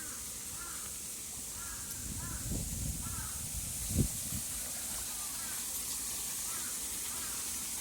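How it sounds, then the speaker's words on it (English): Crows in Keitakuen Gardens, Osaka, give repeated harsh caws at a middle distance over the steady rush of a waterfall, with a brief low thump midway. "The crows are quite noisy in there."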